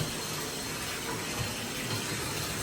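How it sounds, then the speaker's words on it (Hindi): Water runs from a tap into a bathtub as it fills, a steady, even rush of broadband splashing that holds constant throughout with no voices. "पानी भर रहा हूँ मैं इसमें, आज बाथ टब में नहा के देखते हैं।"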